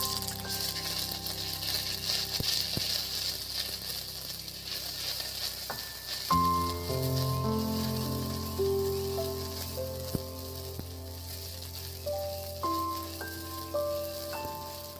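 Ginger paste hits hot oil in a pan and sizzles with a dense, crackling fry that carries on steadily at close range, while faint tonal sounds play in the background.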